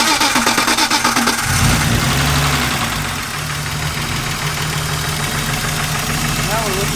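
A BMW E36 engine cranks and catches, then settles into a steady, loud idle with a low, even drone close by, while voices talk over it.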